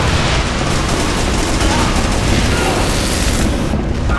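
Bomb blast in Team Fortress 2 on the KOTH Nucleus map, a loud sustained roar of explosion and rumbling debris filling the whole span, close and dense with no breaks.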